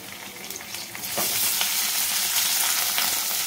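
Rice and raw mango fry in a hot pan with a steady, close sizzle that swells louder after the first second and holds, with faint stirring scrapes and no voices.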